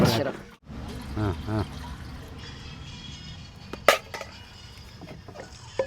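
Drinking water is poured from a pot into a cooking vessel for cucumber dal, a steady close pour with drips, while a person talks over it.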